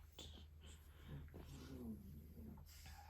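A dog growls and grumbles quietly in the background of a room where someone is sewing, with low snorting, huffing sounds that rise and fall over a few seconds.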